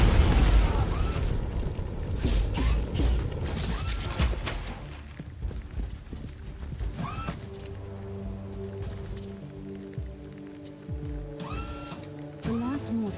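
Mortar explosions in Warhammer 40,000: Inquisitor - Martyr, heavy booming blasts and rumble up front that fade into lighter pops and tonal game effects, with a voice speaking over parts of it.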